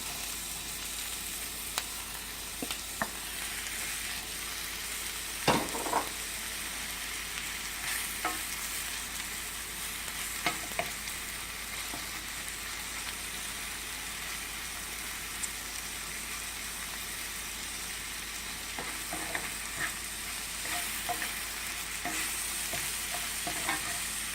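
Mushrooms and other ingredients for loco moco fry in a pan with a steady crackling sizzle, and occasional sharp clicks and scrapes come from stirring.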